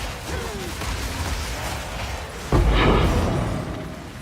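A big explosion goes off in Path of Exile 2, a sudden loud burst with a broad rumbling tail fading over a couple of seconds, coming in after a stretch of busy game noise.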